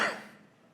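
A single sharp cough from a preacher with a cold, heard during a church service, loud at the onset and trailing off quickly into quiet room tone.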